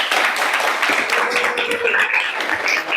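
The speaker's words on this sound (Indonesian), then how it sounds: "Tepuk tangan buat teman kita." Students in an economics classroom clap for a classmate who answered correctly, a loud, close burst of uneven hand claps with a little talking mixed in.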